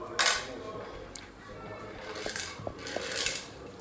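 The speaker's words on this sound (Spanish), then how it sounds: "Lihat Kaiden, dia lagi main masak-masakan pakai makaroni." A child plays at cooking with macaroni and toy pots, making light clinks and small taps of pasta and utensils against the pots, fairly close, over a soft background murmur.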